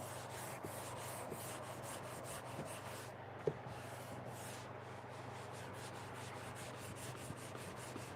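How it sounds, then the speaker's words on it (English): Fine abrasive sanding of the thin finish on an ebonised oak blackboard frame in a workshop, a quiet steady rubbing with soft repeated strokes and one brief knock, no voices. "take more or remove more of the finish when I'm sanding"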